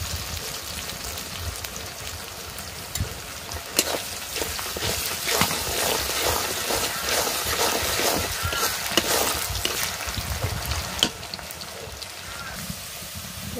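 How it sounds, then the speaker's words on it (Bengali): Onions frying in hot oil in a home kitchen, giving a steady crackling sizzle with a few louder spatters and stirring clicks; no one talks. "পেঁয়াজ দেওয়া দিচ্ছি তেলের মধ্যে এখন এটাকে একটু ভাজা নেব"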